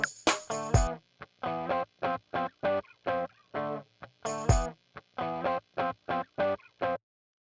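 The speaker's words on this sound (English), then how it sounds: "We're just going to pick amp distortion or amp simulator." An electric guitar played through an old, roughly twenty-year-old amp simulator set to distortion gives a series of short, choppy, gritty chords and stabs with brief silences between them, loud and alone.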